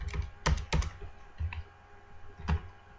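Typing on a computer keyboard, a few close, sharp key clicks in small irregular bursts with short pauses between them.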